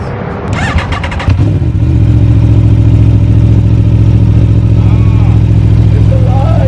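A 2018 Aprilia Tuono 1100 Factory motorcycle cranks over briefly, then catches and settles into a loud, steady close-up idle, with a voice heard over the start.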